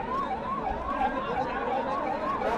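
An ambulance siren wails in a rising and falling cycle, repeating about four times, moderately close over a background murmur of traffic and crowd.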